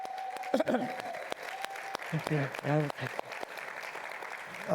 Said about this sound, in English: So can we give Mayor Cherelle Parker a nice round of applause for her being here?